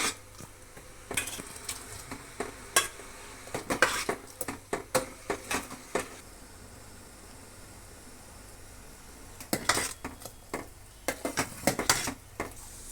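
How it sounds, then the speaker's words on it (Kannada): A ladle stirs halobbattu batter of milk in a metal pot, giving intermittent scraping and clinking strokes in bursts with quiet pauses between, close by. "ಅದರ ಜೊತೆಗೆ ಹಾಕ್ಬಿಟ್ಟು ಸೌಟಲ್ಲಿ ಚೆನ್ನಾಗಿ ಕಲಿಸ್ಬೇಕು"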